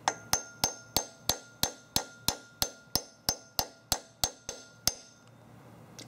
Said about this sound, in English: find the socket that matches the bearing, put it over the bearing, and hammer it in.